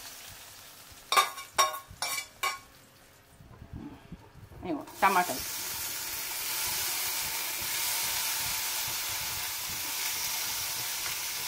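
Ingredients for a cucumber chutney (dosakaya pachadi) frying in a pan until reddened, a few sharp clatters early on, then a steady hissing sizzle that continues alone.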